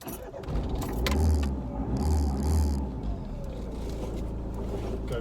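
A Rover Maestro 2.0 litre turbo diesel engine, treated with injector cleaner, cranks with a few pulsing starter bursts and then settles into a steady, close, loud diesel idle.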